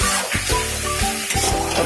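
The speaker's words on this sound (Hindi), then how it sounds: "उसी को डाल के इसको फिर फ्राई करेंगे।" Masala spices frying hard in a hot pan for aloo manchurian, a loud close hiss and crackle that runs continuously, with a few stirring scrapes through it.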